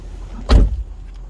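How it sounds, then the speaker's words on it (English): A single quick mechanical thunk of a Jaguar XK8/XKR's door locks actuating, short and close, in an otherwise quiet space. "You saw the door locks open, closing."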